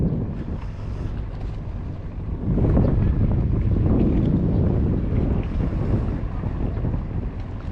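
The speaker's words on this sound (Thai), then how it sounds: "ก็ลมเหมือนจะแรงอยู่เหมือนกันนะ" Strong wind buffets the microphone at the seaside at Samaesan, Chonburi, during a fishing trip, a steady roaring rush that swells louder after the first couple of seconds and keeps blowing without a break.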